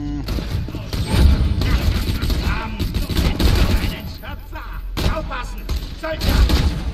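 Bursts of gunfire and thudding grenade blasts in Borderlands 2, loud and continuous through the stretch, with someone speaking German over the combat.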